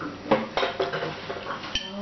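Dishes are being washed at a kitchen sink, with pots and cutlery clattering in a run of irregular clinks and knocks under faint running water, close by and moderately loud.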